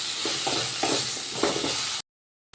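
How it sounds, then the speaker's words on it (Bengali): Potatoes frying in a pan with salt and turmeric, a close hissing sizzle broken by a few spatula stirs, then a brief drop to silence. "এবার আলুগুলো আমি নুন হলুদ দিয়ে ভালো করে ভেজে নেব।"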